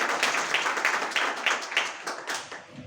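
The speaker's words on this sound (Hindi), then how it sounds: "एक जबरदस्त ताली इन सारे लोग के लिए" An indoor audience at a business-plan meeting claps together in a brief, moderately loud round of applause that fades toward the end.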